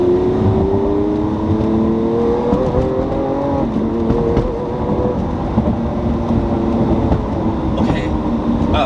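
An exotic rental car accelerates hard while driven fast, its engine note climbing in rising harmonic sweeps through repeated gear pulls, loud and close amid road roar.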